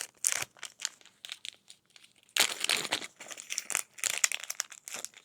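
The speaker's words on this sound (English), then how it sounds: "And then just this plastic bag here." A plastic bag from a Temu haul crinkles and rustles close by in irregular bursts, with a louder stretch of handling in the second half and no talking.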